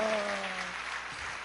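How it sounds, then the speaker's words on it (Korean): A church congregation applauding during a sermon, a short dense burst of clapping that fades quickly after a held sung or spoken tone. "박수로 하나님께 영광입니다"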